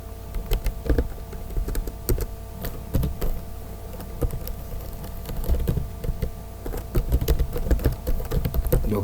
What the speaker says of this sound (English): just continue typing our PHP, our first maiden PHP script